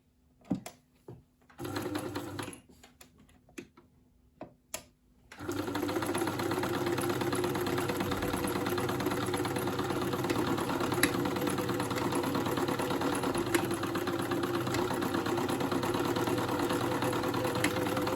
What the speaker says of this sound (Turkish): Gördüğünüz gibi çok sessiz bir makine.